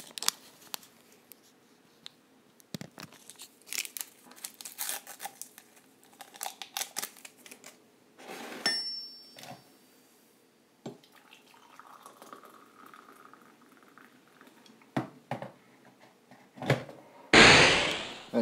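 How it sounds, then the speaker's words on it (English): Someone making a coffee at home: intermittent clinks, taps and handling clatter with a brief stretch of running water, then a loud burst of hissing or pouring at the end, fairly quiet and close. "I don't know if you can hear, but I'm making a coffee."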